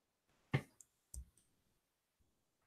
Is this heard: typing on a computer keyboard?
yes